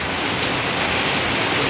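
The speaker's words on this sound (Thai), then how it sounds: "ฝนตกเป็นบาทพี่น้องตก" Heavy rain pours down steadily during a storm, a dense, unbroken hiss of drops drumming on surfaces, loud and constant with no voices.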